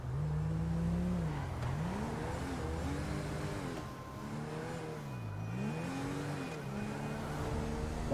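A Toyota Corolla engine drones and revs while driving in GTA V, its pitch rising and falling with acceleration and easing in a steady, close, continuous hum.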